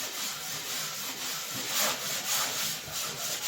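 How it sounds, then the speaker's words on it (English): Drywall joint compound being sanded by hand with light pressure and a swirling motion, giving a close, steady scratchy rubbing that swells and eases with each stroke, with no talking. "And we're going to sand down our joint compound."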